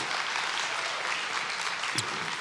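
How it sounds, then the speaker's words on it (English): A church congregation claps steadily for the children at a Sunday morning service, a dense, continuous wash of applause filling the room with no voices over it. "let's give our kids a round of applause"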